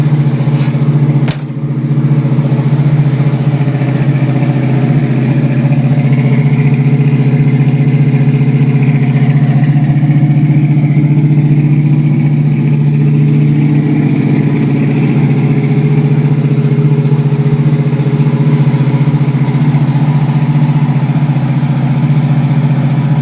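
A 1981 Camaro with a 383 stroker V8 engine idles with a deep, steady rumble, loud and close, holding an even throb throughout with no talking.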